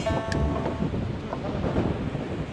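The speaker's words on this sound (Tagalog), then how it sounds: "Sobrang hangin eh." Strong gusty wind buffeting the microphone on the rocky Yehliu coast in Taiwan, a rough low rumble throughout with a brief faint tone near the start.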